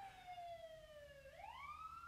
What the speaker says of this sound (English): y'all hear that siren?